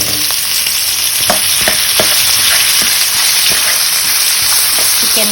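Chicken legs with ginger sautéing in a pan for a dish with coconut milk and bamboo shoots, giving a loud, steady sizzle broken by sharp clicks and scrapes of stirring, with no one talking.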